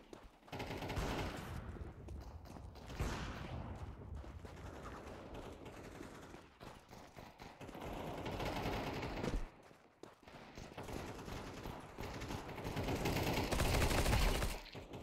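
Rapid, sustained gunfire from the video game Counter-Strike 2, dense bursts of shots running almost continuously and loudly throughout, with brief dips between volleys.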